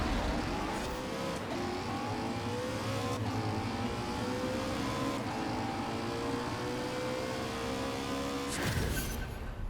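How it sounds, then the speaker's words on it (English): Drift bus tuned for drag racing in Forza Horizon 4, with an engine launching hard and revving up through rising gear sweeps, loud and continuous, then a sudden shift near the end. "So it launches well. So the gears are definitely set up for drag racing."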